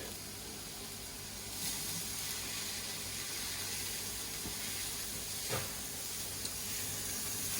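Onions and leeks soften in a pan for leek and potato soup, a faint, steady, low sizzling hiss with a few small knocks and no talk.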